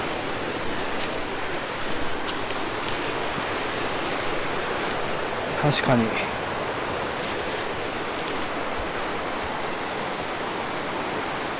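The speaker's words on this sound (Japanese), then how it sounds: "小さい滝が" A small waterfall flows on the Nishizawa Gorge hiking trail, a continuous close rushing and splashing of water that stays loud and even throughout. A voice briefly speaks over it.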